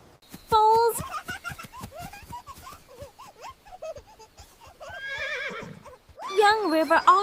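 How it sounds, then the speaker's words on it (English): Young foals neighing and whinnying in shrill bursts, one near the start and louder ones toward the end, with hoof knocks and a soft voice-like snicker between calls. "Foals."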